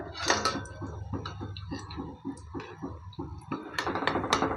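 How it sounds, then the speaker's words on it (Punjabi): Repeated metallic clinks and scrapes of a utensil against a wok, in a loose steady rhythm, close and moderately loud with no talking, as fried wheat-flour biscuits are lifted out of the oil. "ਹੁਣ ਆਪਾਂ ਕੱਢ ਲੈਣੇ ਆ ਕੜਾਹੀ ਦੇ ਵਿੱਚੋਂ"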